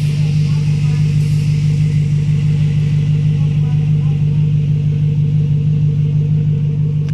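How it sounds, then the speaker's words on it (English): A 2005 BMW 545i with a V8 and quad exhaust pipes rumbles at a steady idle from close behind, a deep, continuous drone with no revving. "take a listen of the quad exhaust pipe for the V8 engine."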